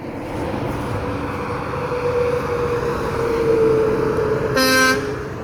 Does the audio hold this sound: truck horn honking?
yes